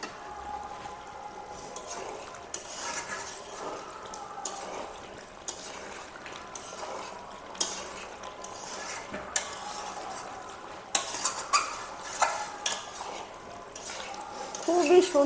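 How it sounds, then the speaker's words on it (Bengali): Chicken curry with potatoes and mustard oil being sautéed and stirred in a pan at home, with soft sizzling under steady scraping and clinking of a spoon against the pot, close and moderately quiet, a few sharper knocks throughout. "এখন আমরা কষিয়ে নেব।"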